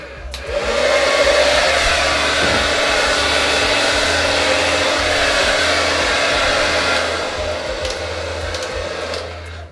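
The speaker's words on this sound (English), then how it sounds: "Grab my hair dryer." A hair dryer blows loudly and steadily from close by, a constant whooshing roar with a low motor hum that eases slightly near the end.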